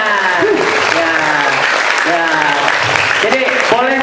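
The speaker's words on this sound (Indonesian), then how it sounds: "Oke, tepuk tangan dong ya." Continuous audience applause fills an Islamic school talk show hall, with a voice speaking over the steady clapping throughout.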